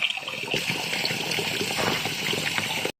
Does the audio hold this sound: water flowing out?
yes